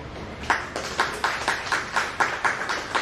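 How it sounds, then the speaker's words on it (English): Audience applause at a founder's day event in Hyderabad: a steady, even run of claps at a regular beat, moderately close and fairly quiet, with no voices over it. "A big round of applause, please."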